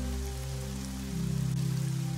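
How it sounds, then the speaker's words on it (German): Raindrops falling in a soft, steady patter over a low, sustained droning hum, calm and even throughout with no voices. "du kannst steuern, dass die Regentropfen, die dich in die schöne Trance begleiten, noch langsamer werden"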